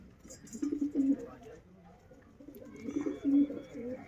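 Dubai teddy pigeons cooing close by, two low throaty rolling coos a few seconds apart, with someone speaking in the background.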